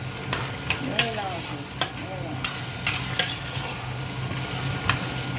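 Spaghetti bolognese sauce with vegetables is stirred in a hot pan: a continuous sizzle with scattered scraping clinks of the utensil against the pan, close and steady, no speech.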